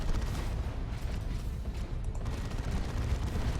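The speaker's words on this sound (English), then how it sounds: "Assault cannon barrage to go with it." A dense, sustained barrage of assault cannon fire in the video game Warhammer 40,000: Dawn of War 2: Retribution, a steady roar of rapid booming shots and mechanical clatter with no pauses.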